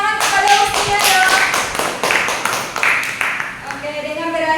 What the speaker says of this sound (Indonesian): tepuk tangan kepada Ustia dong.